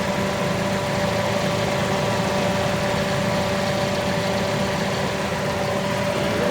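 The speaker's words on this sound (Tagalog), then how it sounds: "So ayan, tahimik makina." Toyota Corolla Altis 1.6G automatic idles quietly with a steady low hum and a constant faint whine, smooth and unbroken throughout.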